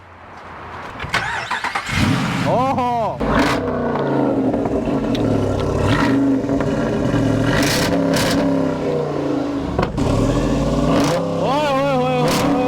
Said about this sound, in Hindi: अभी आपको इसकी इंजन की आवाज़ सुनाते हैं।